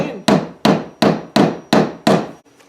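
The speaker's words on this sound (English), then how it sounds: "place the nail in its desired spot and slowly begin to hammer." A hammer drives a nail through cardboard in six sharp, evenly spaced strikes, loud and close, each with a quick decaying thud.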